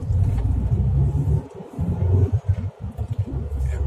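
Car with a digital throttle controller in normal mode pulls away, producing a loud low rumble close by that drops out briefly, then resumes in choppy pulses before steadying.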